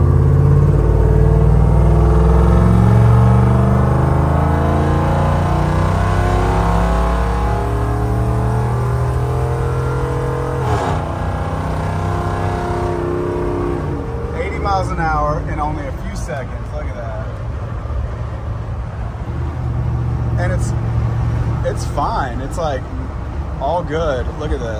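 A 1978 Ford Bronco XLT Ranger with a Coyote engine swap cruising at highway speed, its engine droning steadily with shifting pitch under road noise while someone talks over it throughout.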